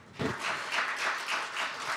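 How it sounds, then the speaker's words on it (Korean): An audience gives steady, sustained applause at a 20th anniversary ceremony for a Korean news outlet, a dense wash of clapping that swells and holds without speech. "큰 박수 다시 한번 부탁드립니다."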